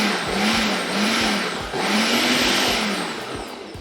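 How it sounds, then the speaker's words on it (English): Food processor blitzing hummus ingredients with water, a loud continuous whirring motor with a couple of brief dips in pitch, steady and close with no talking. "We want to give this a little blitz just to get all of the ingredients incorporated"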